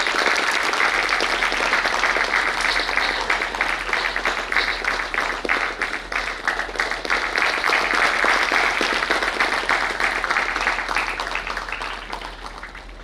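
A crowd at the grand inauguration of a college techno-cultural fest claps in sustained, dense applause that stays full and even, then begins to thin and fade near the end.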